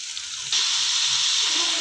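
Tomatoes and ground spices hit a hot pan for vegetable pulao, a soft sizzle jumping to a loud, dense, continuous hiss of frying, close and with no talking.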